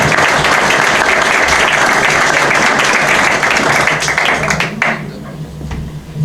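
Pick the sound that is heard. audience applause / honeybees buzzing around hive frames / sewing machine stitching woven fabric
audience applause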